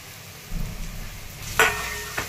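Chopped onion with crushed garlic and ginger sautés in a pan: a low sizzle under a few stirring scrapes and a sharp clink of the spoon against the pan, close, with no voices.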